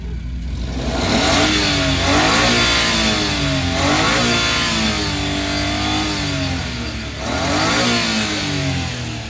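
A Japanese-import vehicle's DE17B engine revs repeatedly, rising and falling in pitch in several loud surges, close by with no talking.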